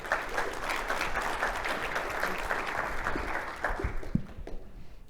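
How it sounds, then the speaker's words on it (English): An audience at a conference talk claps for a speaker being introduced, dense steady applause that thins out and fades over about five seconds, ending with a few scattered claps. "please, a big round of applause for Nicole Weaver"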